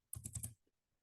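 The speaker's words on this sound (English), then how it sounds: "That's me just typing this out" Four or five quick keystrokes on a computer keyboard in one short burst, near and fairly quiet, then silence.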